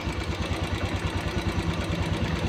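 A Royal Enfield Classic motorcycle engine, being tuned for a morning starting problem, runs close by with a steady, rapid thumping pulse at a slightly raised idle, alone with no talking.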